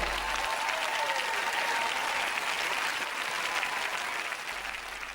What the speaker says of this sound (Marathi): एकच व्यक्तीने टाळ्या वाजवल्या